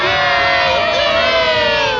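A dense crowd at an Angels baseball game cheers and shouts without pause, loud and close, with high whoops and cries rising above the roar.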